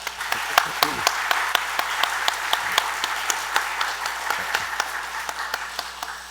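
A church congregation claps in a steady, even rhythm for several seconds, loud and fairly close, with a faint murmur of voices underneath.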